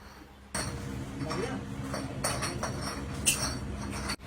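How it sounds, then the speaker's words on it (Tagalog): Glass bottles being handled and stacked clink in scattered, sharp knocks over a busy background rumble, fairly close, with some soft voices in the room. "Ang ingay ng bote."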